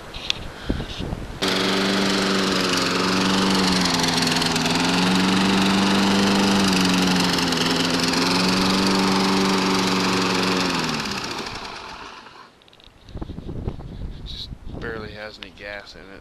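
A Craftsman lawn mower engine with a brand-new blade runs loud and close, its steady buzzing drone wavering slightly in pitch before dying down and sputtering out, followed by nearby rustling and handling noises.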